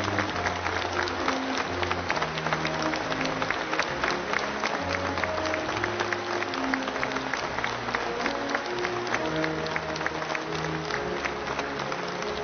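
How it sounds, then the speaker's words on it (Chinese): Warm, sustained applause from a large standing audience at a formal state medal ceremony in Beijing honoring July First Medal recipients, a steady, even roar of clapping held for the full length, with a low musical hum beneath. "让我们再次用热烈的掌声向七一勋章获得者致以"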